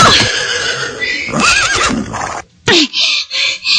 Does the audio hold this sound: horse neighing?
yes